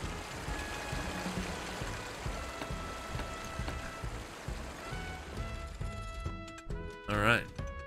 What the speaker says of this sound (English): That water's pretty loud.